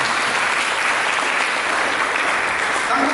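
Congregation applauding in a church service, steady dense clapping filling the room at close range throughout, with no voices standing out above it.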